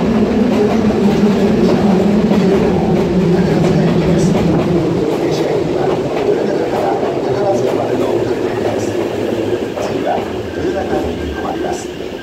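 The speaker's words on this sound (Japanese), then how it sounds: "3号線に宝塚方面へ向かう電車が到着します。" A train bound for Takarazuka rumbles steadily into platform 3 at Jūsō station, broadband rolling noise and rail clatter holding loud throughout before easing slightly near the end.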